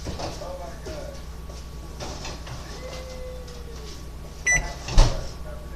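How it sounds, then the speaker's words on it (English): A microwave oven hums steadily while heating an orange for thirty seconds, with faint tones and quiet movements over the drone, then a couple of sharper knocks near the end. "This one is where you put an orange in the microwave for 30 seconds."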